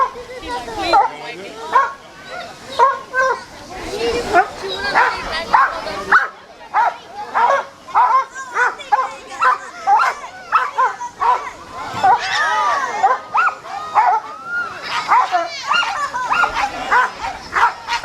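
Police K9 dogs bark and yip repeatedly in an outdoor bite demonstration at a community crime-prevention night event, loud and close, with someone talking over the barking throughout.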